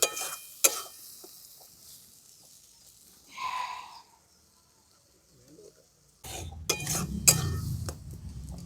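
Coriander leaves dry-fried with spices in a pan for sweet-sour-spicy pickle, with a spoon scraping and stirring in short, quiet bursts at the start and a denser stretch at the end; a brief throat-clearing sound comes in the middle.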